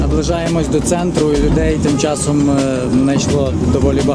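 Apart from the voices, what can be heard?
None of the usual background noises is heard.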